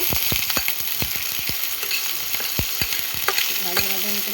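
Onion and fresh green bay leaf frying in hot oil for a ridge gourd poppy-seed dish, a continuous close sizzle broken by sharp crackles and pops, with a faint clink near the end.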